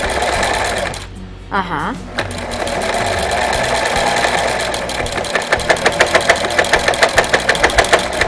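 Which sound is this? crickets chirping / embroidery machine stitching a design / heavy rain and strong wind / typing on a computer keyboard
embroidery machine stitching a design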